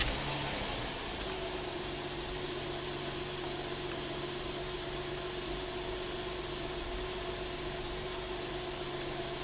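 A Honda engine idles with a cylinder misfire, a steady low hum with a constant tone running faintly and evenly throughout, no voices.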